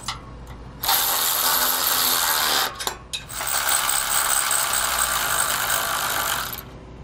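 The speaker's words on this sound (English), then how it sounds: "we can go ahead and tighten down our hardware." A ratchet wrench tightens the mounting bolts and nuts with lock washers on a Dutton-Lainson round swivel trailer jack, giving loud, continuous rapid clicking in two long bursts separated by a brief pause.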